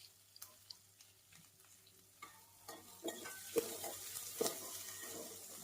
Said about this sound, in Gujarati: આની ઘીમાં જ છાંકડીને આપણે બટેટા ચલાવી લઈશું, થોડી વાર ચલાવીને